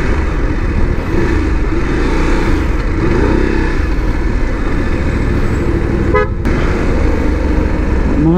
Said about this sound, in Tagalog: gagamit talaga dapat tayo ng mga warning devices, like syempre busina